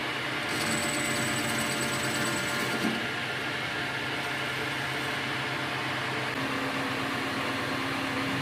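A metal lathe turns a motorcycle wheel rim for a sculpture, taking a light 0.25 mm cut: a steady, close machine drone with a high whine and no talk.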